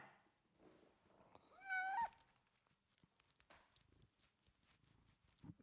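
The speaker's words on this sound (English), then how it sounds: "Can't believe you're a cat, man." A pet cat lets out a single rising meow at close range amid quiet household rustling and small knocks, the rest of the short stretch staying faint.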